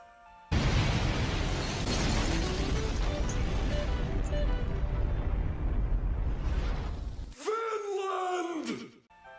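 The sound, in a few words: tower blowing up, explosion in a video game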